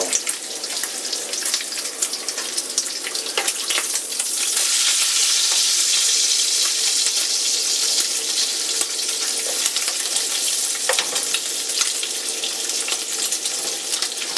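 Eggs and bacon frying in a cast iron pan, a loud, close, continuous sizzle that swells and brightens partway through, with occasional clicks and scrapes and no talk.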